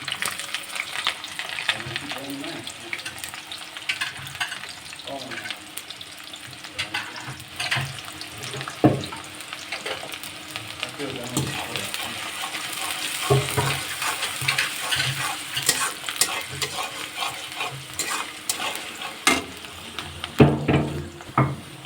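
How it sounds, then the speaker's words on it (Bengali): Onion and small chela river fish fry in hot oil for a Bengali village dish, with continuous loud sizzling and crackling, intermittent stirring and scraping, and no talk. "আমার তেল গরম হয়ে গেছে। এখন আমি এর ভিতরে পেঁয়াজটা দিয়ে দেবো।"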